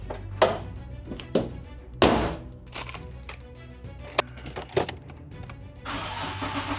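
A 500 hp Nissan 370Z Nismo sports car engine cranks and catches, then runs roughly with uneven misfiring sputters and several sharp thunks, fairly close and loud.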